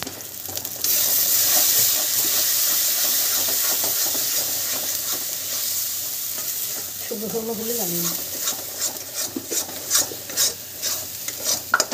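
Spiced pea filling for koraishutir kochuri fries and is stirred in an iron kadai, with steady sizzling and scraping strokes of a spatula while someone speaks briefly over the cooking.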